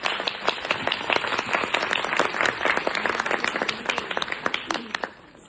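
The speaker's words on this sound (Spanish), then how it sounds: "procedamos con un aplauso a Rubén" Audience applauding at a lecture on political violence in Ecuador, dense rapid hand claps from a sizable crowd, steady and fairly loud before tapering off at the end.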